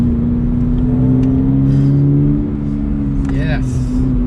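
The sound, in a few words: Toyota GR86 driving aggressively around corners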